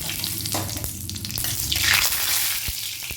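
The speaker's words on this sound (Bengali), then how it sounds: "তেলটা গরম হয়ে গেছে দিয়ে দেব অর্ধেক শুকনো লঙ্কা একটু জিরে আর তেল" Dried red chillies and cumin seeds hit hot mustard oil in a pan, giving a steady, close hissing sizzle with a few sharp crackles and spits, continuous throughout with no talking.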